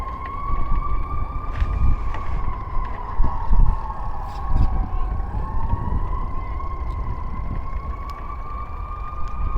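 Fire truck sirens wail loud and continuous, rising and falling as the trucks pass nearby under a rumble of city traffic, with no one talking.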